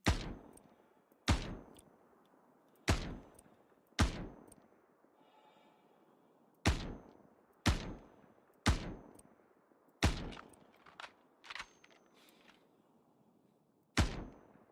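Video game gunfire, roughly ten sharp, loud single shots ringing out at irregular intervals with echoing decay between them.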